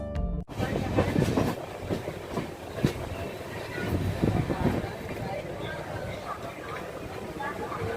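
Jammu Tawi Express (13151) running on rails, a loud continuous rumble with rhythmic clickety-clack of wheels over joints, heard from on board throughout.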